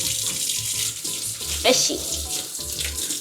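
A kitchen tap runs steadily into a sink while hands are washed during salmon-bite prep, giving a continuous close splash with brief louder gushes and a short spoken word.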